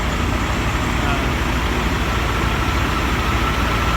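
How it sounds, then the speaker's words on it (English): Several trucks, including a 2018 Peterbilt, sit running at a truck stop in hot weather, a loud, steady low engine drone of idling diesels with no pauses. "It's hot as balls here, so everybody's got their truck running."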